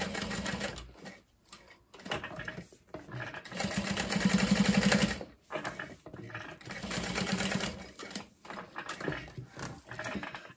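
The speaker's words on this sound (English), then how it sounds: "So again, with the box stitch, going right across the D-ring as close as possible" Sewing machine box-stitching across a D-ring on a vinyl bag, a close, loud, rapid mechanical chatter in several runs separated by short pauses, with no talk.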